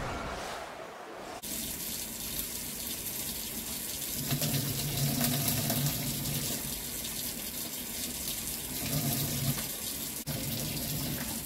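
Water runs from a kitchen sink tap in a steady, continuous gush with a faint rumble underneath, starting after a brief quiet moment and carrying on alone.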